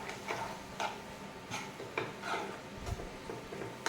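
A spoon stirring a curd and tempering mix of cumin, curry leaves and dried chillies in a pan for beetroot pachadi, giving soft, regular taps and scrapes at close range.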